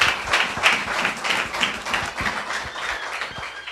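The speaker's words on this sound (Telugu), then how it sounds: "మరి అమ్మను గట్టి చప్పట్లు కొట్టి ఆహ్వానిద్దాం." An audience at a Sunday Women's Day church gathering claps to welcome a speaker, dense lively applause with distinct individual claps, close and fairly loud throughout.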